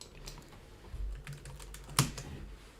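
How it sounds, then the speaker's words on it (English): Rapid typing on a computer keyboard, a quick close-up burst of light clicks with one sharper key strike near the end, quiet and with no speech. "See how quickly I type waves then."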